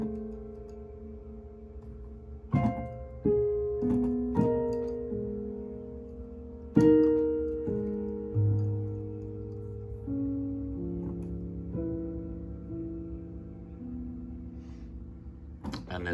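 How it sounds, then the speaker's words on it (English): Hopeful ensemble music for a Carnegie Hall composition, with flute among the instruments, enters softly with sustained tones after a short hush, punctuated by several sharp percussive accents over a gentle, moderately quiet texture. "we would hear a short period of silence followed by this hopeful kind of music"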